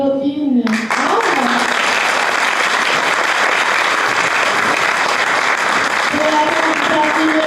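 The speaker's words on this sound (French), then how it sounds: "Je vais vous demander un tonnerre d'applaudissements pour la candidate numéro 1." Thunderous audience applause greets the first candidate at a Miss beauty pageant, a loud, sustained wash of clapping from a large crowd, with brief voices and cheers at the start and again near the end.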